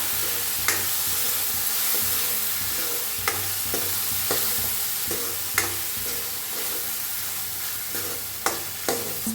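Red chili powder, turmeric and sabzi masala dry-roasting in a pan for sambar, a continuous soft sizzle with scraping spatula strokes every second or so.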